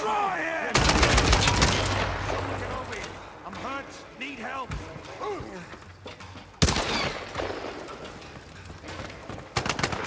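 Rapid automatic gunfire in a Tomb Raider multiplayer match comes in two loud, close bursts with scattered shots between them, while someone talks over the action.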